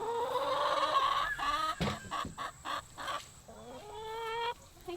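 Several hens at a mobile chicken coop cluck and squawk close by in short, uneven bursts, some calls rising into drawn-out squawks, with brief pauses between them.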